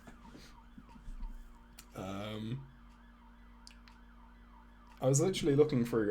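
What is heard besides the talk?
emergency vehicle siren outside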